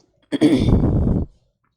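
One sharp sneeze bursts out close to the microphone in a lecture studio, a quick intake followed by a breathy, noisy release lasting about a second.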